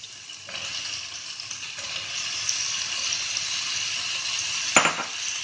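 Chopped carrots and beans sizzle steadily in a hot pan for vegetable korma, a continuous close frying hiss with soft stirring scrapes and a sharp utensil clank near the end; no talking.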